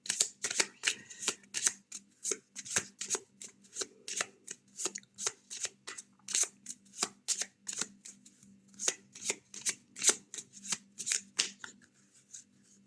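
Handmade cards cut from a painting are shuffled repeatedly in quick, crisp, rhythmic bursts close by, with short papery riffles and slaps following one another for several seconds.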